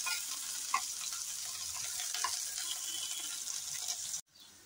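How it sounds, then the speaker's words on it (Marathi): An onion fries in oil in a pot, giving a steady close sizzle with faint stirring clicks throughout before cutting off near the end. "याच्यात पहिल्यांदा कांदा भाजून घेऊया"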